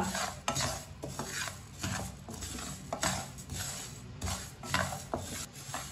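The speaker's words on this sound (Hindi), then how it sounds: "1 मिनट के लिए मैंने रोस्ट कर लिया मसालों को।" Spices for mango pickle roasting dry in a pan, with repeated scraping and stirring clatter against the metal and a light sizzle running steadily underneath, close and moderately loud, no voices.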